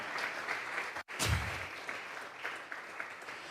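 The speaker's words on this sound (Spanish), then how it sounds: "Vamos a regalarle ofrenda de palmas." A church congregation at a Sunday service breaks into sustained applause, a dense crackle of many hands clapping steadily after a brief pause, filling the room for several seconds with no speech over it.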